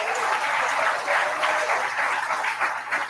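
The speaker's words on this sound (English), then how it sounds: "Let's give Carlos another round of applause." Applause for Carlos at a youth leadership conference in Nassau, Bahamas, comes as a dense, even patter of clapping from a gathered crowd, sustained throughout without a clear peak.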